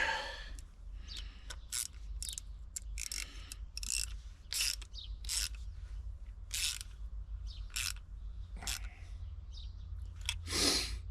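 A ratchet fitted with a 1/4 inch deep socket clicks in quick, repeated bursts while tightening a fastener on a 1982 Galaxy MerCruiser engine being rebuilt, close and fairly quiet with short pauses between strokes.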